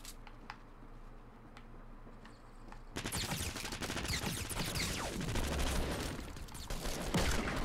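Revolver gunfire in the game Fortnite bursts in after a quiet stretch of faint ticking, becoming a loud, sustained barrage of rapid shots and overlapping blasts that continues to the end.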